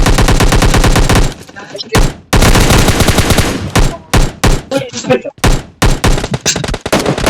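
Gunfire in the mobile video game PUBG Mobile Lite, loud sustained automatic bursts followed by a rapid string of separate shots, close and dominant, with no talking.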